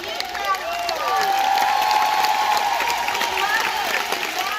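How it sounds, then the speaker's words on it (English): An audience at a 2019 Premier Designs rally breaks into applause, a dense steady wash of clapping with some cheering and whoops, filling the room at moderate loudness after a brief quieter start. "these girls a huge round of applause."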